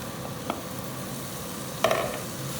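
Minced meat sizzling in a hot pan for South African bobotie with herbs and cloves, a soft steady frying hiss with a couple of sharper clatters as it goes in.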